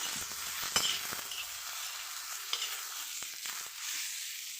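Salted eggplant sautéing in a pan, a soft hiss of frying with a few light clinks and scrapes of a spatula, close and fairly quiet, no voices.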